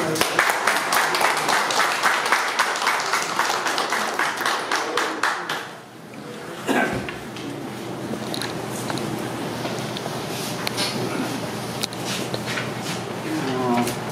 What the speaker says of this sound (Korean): 저희 이중효 전 의장님께 큰 박수 부탁드리며 앞으로 모시겠습니다.